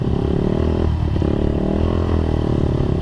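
A motorcycle engine with a noisy fault idles loudly nearby with a rough, clattering rumble, steady throughout with a brief rattle midway.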